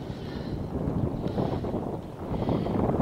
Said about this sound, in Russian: Ветер дует, сейчас измерим скорость ветра.